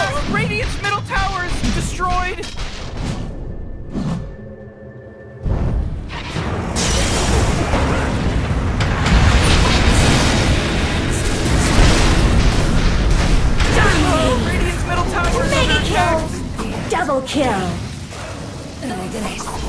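A tower being destroyed in Dota 2, with a deep boom and crumbling rumble rising out of busy battle effects, while an announcer voice speaks over the clash of spells and attacks.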